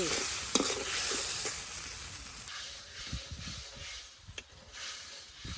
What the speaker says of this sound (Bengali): মরিচের গুঁড়া আদা জিরা বাটা স্বাদ মতো লবণ মশলাটারে ভালোভাবে কষে